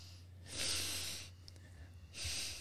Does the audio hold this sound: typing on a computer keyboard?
no